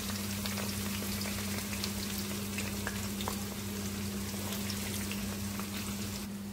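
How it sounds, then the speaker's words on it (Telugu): Chopped onions frying in hot oil, the first step of a mutton head curry: a loud, even sizzle that carries on steadily from start to end with no voices. "ఆయిల్ హీట్ ఎక్కింది. చూడండి, ఉల్లిపాయలు కూడా వేసుకుంటున్నాం."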